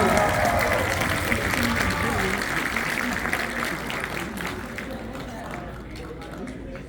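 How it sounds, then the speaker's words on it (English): Audience at a youth entrepreneur conference in Toronto City Hall giving a round of applause, sustained dense clapping that gradually fades, with voices talking over it. "Everyone give a round of applause."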